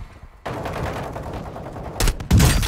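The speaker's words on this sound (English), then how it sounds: "I'm getting sniped from behind" Sniper rifle shots in Call of Duty: Warzone, cracking sharply in two loud, close bursts after a stretch of lower battle noise.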